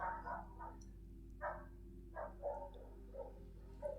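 Several dogs bark outdoors at a distance, short bursts of yaps spaced every second or so, faint against a low steady hum.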